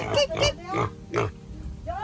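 Pigs on an island farm in Guimaras, Iloilo, Philippines, give several short nasal oinks and grunts in quick bursts, close and fairly loud, with people chattering between them.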